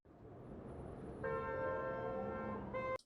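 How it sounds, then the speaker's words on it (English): Stock traffic sound effect with a car horn honking over a low street rumble, the held horn tone sounding clearly from midway and cutting off abruptly near the end. "traffic honking"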